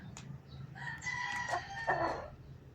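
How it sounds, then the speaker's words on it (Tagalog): A rooster crows once, a loud drawn-out call nearby against a quiet background. "Okay, may dalawang tandang."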